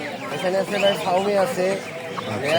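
Chickens cluck and call in a crowded poultry market stall with Sonali and Fayoumi breeds, steady overlapping bird sounds close by beneath people talking throughout.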